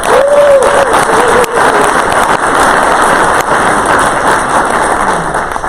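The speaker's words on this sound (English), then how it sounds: "Let's give her a round of applause." Loud, dense applause from an audience at a leadership panel, sustained throughout with a brief cheer-like voice near the start, steady hiss of many hands clapping together.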